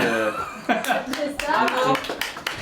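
A small group claps in quick, uneven bursts while people talk and chuckle over it, the claps close and sharp amid the chatter.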